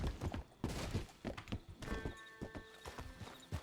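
Horse hooves clip-clop close and loud in Red Dead Redemption 2 while the horse moves restlessly, a quick irregular string of heavy hoofbeats with a neigh rising partway through.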